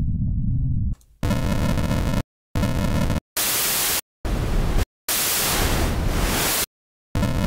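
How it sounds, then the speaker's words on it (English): A Kilohearts Phase Plant software synthesizer plays bursts of random noise, several loud blocks of hissing static separated by abrupt silences, shifting from buzzy tonal noise to smooth broadband hiss. "Here we can get bit noise, and this is like smooth random noise."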